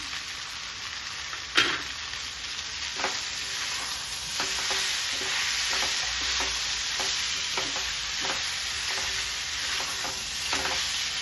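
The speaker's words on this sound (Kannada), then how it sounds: "ಇದೊಂದು 2 ನಿಮಿಷ ಫ್ರೈ ಆಗಬೇಕು" Okra fries with chili powder in a pan, giving a steady close sizzle broken by repeated spatula scrapes and stirs, with one sharp knock near the start.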